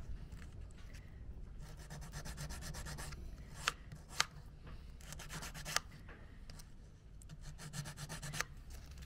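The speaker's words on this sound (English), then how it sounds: "You don't want to sand too much detail away, otherwise you won't have anything left when the paint goes on." Sandpaper rubs steadily over a carved wooden flower on a gypsy wagon, in close, rhythmic scratchy strokes with a few sharp taps between passes.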